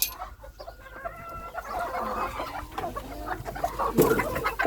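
A bantam hen clucks after laying an egg, a steady run of calls among other farmyard poultry, heard at moderate distance with no talking.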